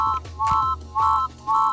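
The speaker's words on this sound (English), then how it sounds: "This is the sound that it makes when you die." A harsh electronic tone beeps three times in a steady repeating pattern, each buzz lasting about a quarter second, loud and grating: the player death sound in the game EGG UP.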